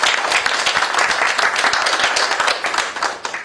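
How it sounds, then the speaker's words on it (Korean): An audience at a forum founders' meeting claps in support of an assemblyman, brisk, crisp hand claps blending into a lively burst that tapers slightly near the end. "의원님에게 파이팅의 박수 한번 부탁드리겠습니다"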